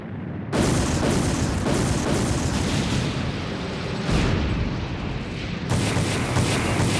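Anime military units firing weapons in unison, a dense loud barrage of booming shots and blasts that starts abruptly and rolls on continuously, with renewed bursts near the end and no talk.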